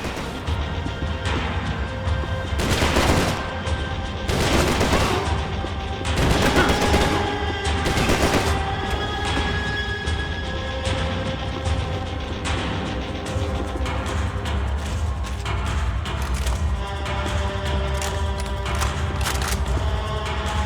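Heavy gunfire in the Xbox 360 action game Stranglehold, with loud repeated bursts and volleys of shots and crashes of impacts over a constant din, with no pauses in the fighting.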